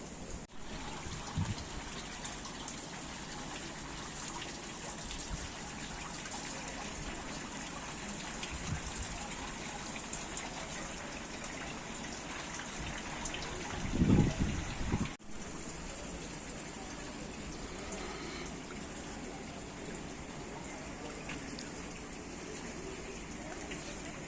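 Rain falls outdoors at the Kyiv Pechersk Lavra monastery grounds as a steady, even hiss of drops on surfaces, with a brief louder splash or rustle partway through and no clear talking.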